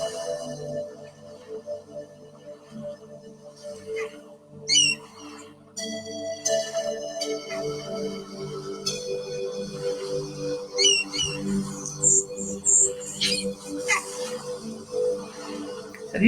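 Seagull-like calls rise now and then over soft seaside ambience music, with brief chirping cries at moderate distance scattered through a steady relaxing backdrop.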